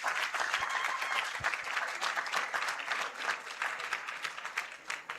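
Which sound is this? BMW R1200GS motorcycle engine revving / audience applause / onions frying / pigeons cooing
audience applause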